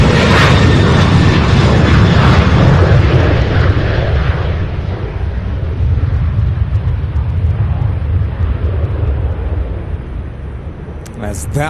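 A jet takes off at Louisville International Airport, a loud sustained roar of engines that fades slightly as it climbs away.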